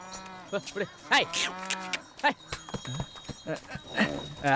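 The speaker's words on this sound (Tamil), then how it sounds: "ஏ தாமரை, என்ன நீ மாடு பிடிச்சிட்டு வர?" A cow moos loudly and repeatedly in a rural village setting, several long harmonic calls close by, mixed with people talking.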